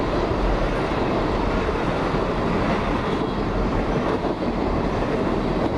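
A Union Pacific train rumbles past nearby with a steady, dense roar of rolling wheels on rails, continuous and loud throughout.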